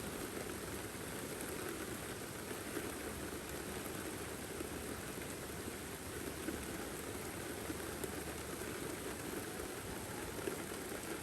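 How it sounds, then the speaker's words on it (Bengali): Heavy rain pours down on a village in a steady, dense hiss that fills the whole stretch without pause, loud and close, with no voices over it. "অনেক বৃষ্টি, অনেক"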